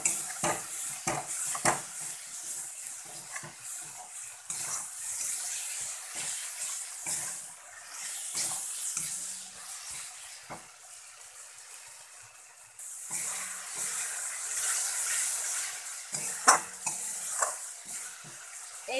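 Spice masala being stir-fried in a pan, with repeated scraping strokes of a spatula over a constant bright sizzle and crackle of oil, close and fairly quiet, with no one talking.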